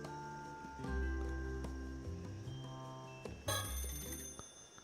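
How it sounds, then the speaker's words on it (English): In the video game Paranormasight: The Mermaid's Curse, a telephone rings with a sustained electronic tone over a low droning backdrop, fairly quiet, then a sharp bright burst near the end; nobody speaks. "Ah, it's just the phone."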